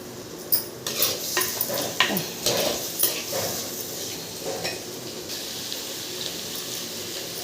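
Two beaten eggs being stirred into fried banana flower in oil, with a spoon scraping and clinking against the pan in irregular bursts over a soft, steady background.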